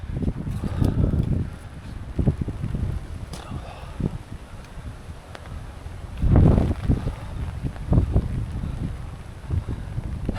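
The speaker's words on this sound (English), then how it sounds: "Suddenly got very windy here in this little gully." Wind gusting through a narrow rocky gully on a rainy hike, buffeting the microphone in rough bursts that rise and fall, loudest near the start and again past the middle.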